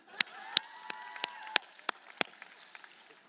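A scattered few audience members clap at a political election forum, sharp separate claps spaced irregularly, fairly faint and sounding somewhat distant in a large room.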